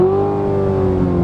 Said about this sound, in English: Now, we are in neutral, and this is what the car sounds like.